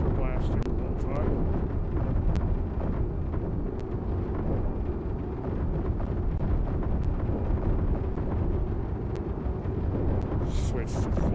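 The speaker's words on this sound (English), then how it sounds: "autocannon turrets are blasting the whole time." Continuous heavy rumbling autocannon turret fire in the video game Space Engineers, dense rapid bursts throughout, loud and unbroken, with sharper cracks over a deep roaring low end.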